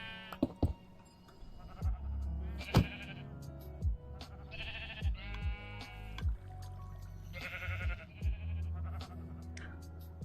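Minecraft sheep bleat in repeated short, wavering calls, several overlapping at close range, with occasional soft game thuds between them and no talk over the top.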